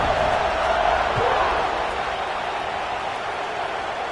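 A packed football stadium crowd buzzes in a steady, broad roar at a distance, with no distinct cheers standing out over the constant wash of noise.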